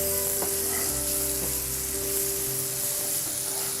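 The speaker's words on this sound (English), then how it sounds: "There it is, nice and sizzling over that" Steady, loud sizzling of masala spices frying in hot oil for South Indian mutton chops, a continuous crackling hiss close by with no talking.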